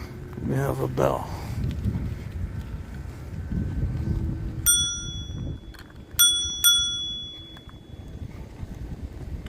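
Three crisp rings of a bicycle bell on a mobility scooter ride out over wind noise and rolling outdoor rumble, with a voice briefly heard early on.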